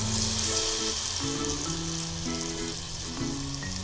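Battered baby corn fries in a kadhai of hot oil, a close, even sizzle under a layer of steady tonal music, no voices.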